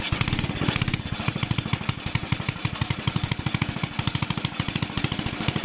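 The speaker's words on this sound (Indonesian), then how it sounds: "sekarang waktunya untuk kita tes motornya apakah dia bisa hidup apa tidak" A Honda Supra Fit motorcycle engine runs after an ignition repair with a replaced spool, a loud close-up rapid single-cylinder putter idling at a steady, even rhythm.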